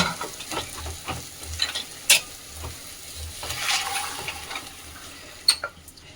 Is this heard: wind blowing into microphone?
no